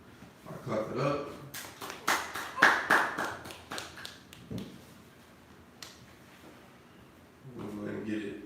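Hands clap in a few sharp bursts during a Sabbath service, several crisp claps in quick succession near the start, with quieter taps and speech around them.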